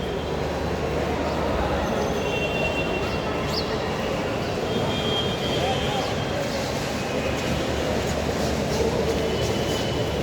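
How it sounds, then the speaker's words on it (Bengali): A train at Motijheel railway station, a loud continuous rumble and rattle of rail cars that holds steady for about ten seconds with no break. "এটা হলো মতিঝিল রেলওয়ে স্টেশন।"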